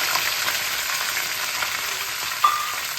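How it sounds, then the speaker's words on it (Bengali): Chopped vegetables for a paneer curry fry steadily in hot oil, a dense continuous sizzle close by with a brief clink of a utensil near the end. "এখানে আমি সবজিগুলোকে ভেজে নিচ্ছি"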